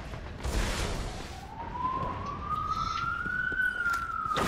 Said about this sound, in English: there is a very, very noisy siren in some emergency vehicle going past.